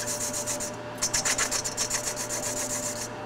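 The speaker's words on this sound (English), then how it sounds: "We're going to trim it through now," A steel tool rasps against a spinning metal part on a lathe, trimming off the excess edge of a Ford Model A component in a workshop, giving a close, steady series of rapid scraping strokes with a brief pause near the start.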